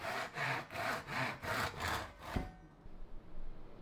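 A hand saw cuts small wooden bookcase shelves to length in about six quick, even back-and-forth strokes, close and clear, then stops as the piece drops off and light handling follows.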